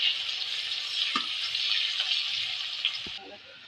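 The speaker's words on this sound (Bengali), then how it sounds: "কুচিয়ে রাখা পেঁয়াজ দিয়ে দেবো। নেড়ে চেড়ে পেঁয়াজটা লাল করে ভেজে নেব।" Chopped onions sizzle steadily in hot oil seasoned with whole spices such as bay leaf and dried chili, a constant close hiss with a couple of faint stirring knocks and no talking.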